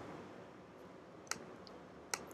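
Two crisp, faint computer mouse clicks, spaced under a second apart, against a quiet background hum.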